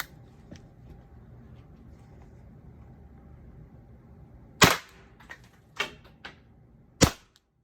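A pepperball launcher (TCP Freak, Lapco 6-inch barrel) fires rounds into a wooden target: a quiet stretch, then a few sharp loud snapping shots with impacts, irregularly spaced.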